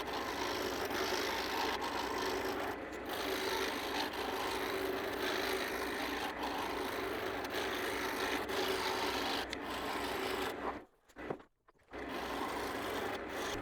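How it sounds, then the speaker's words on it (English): A spindle roughing gouge trues up a wooden blank spinning on a lathe for a hollow ornament, giving a steady, loud scraping rasp that runs almost without pause, then briefly cuts out near the end before resuming. "Using the spindle roughing gauge is certainly by far the quickest way to true this up."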